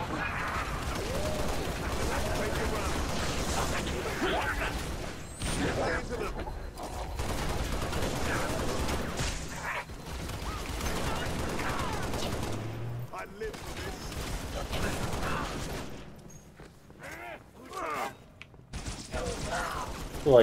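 Needler weapon fire in the sci-fi shooter game Halo Reach: dense, rapid bursts of shots that run almost continuously at a steady loud level and break off near the end, with someone talking over them.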